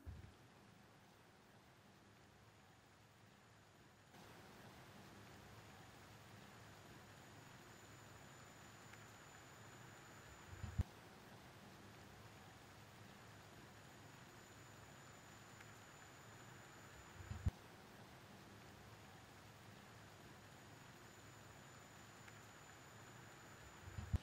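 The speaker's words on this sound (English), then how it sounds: "All right, so it starts raining" Steady rain falls outdoors during a road trip, a constant soft hiss that holds evenly throughout, with a few brief knocks and thumps breaking through now and then.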